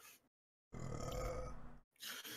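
A single loud, drawn-out burp of about a second rumbles low and close, with brief faint sounds just before and after it.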